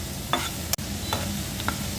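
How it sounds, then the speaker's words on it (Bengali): Onion, garlic and green chili fry in mustard oil for a prawn mash, giving a constant close sizzle broken by a few short stirring scrapes and one sharp click. "সরিষার তেল দিয়ে ভেজে নিচ্ছি।"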